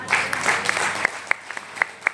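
Audience applause at a Hindi Vestige business plan seminar, a steady wash of clapping for about two seconds with a few sharper individual claps standing out near the end.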